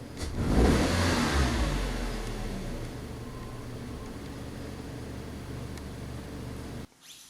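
A 2003 Nissan Altima engine, tested after a mass airflow sensor fault, is snapped open so it revs loudly up close, then eases into a steady hum before cutting off abruptly. No voices are heard.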